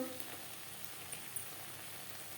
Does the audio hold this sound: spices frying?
yes